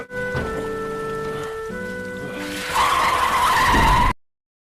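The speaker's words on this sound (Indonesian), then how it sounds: "Joha tiba-tiba ditabrak oleh sebuah mobil berwarna hitam" A black car skids on a rain-wet road before striking a pedestrian in a film scene, a loud tyre screech rising over rain and music then cutting off abruptly.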